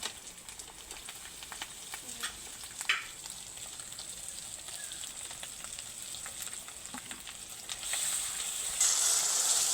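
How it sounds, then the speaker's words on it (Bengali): Garlic, onion and tomato paste fry in a pan with a soft, fairly quiet sizzle and occasional stirring clicks; the hiss swells louder near the end. "রসুন পেঁয়াজটা আমি ভালোভাবে ভাজা ভাজা করে নিয়েছি এইবার দিয়ে দেবো টমেটো বাটা"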